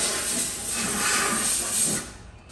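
Spray hisses steadily into the chassis leg of a Honda Civic FN2 Type R, a close, continuous aerosol rush that holds for about two seconds before cutting off.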